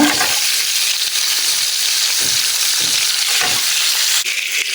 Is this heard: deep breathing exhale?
no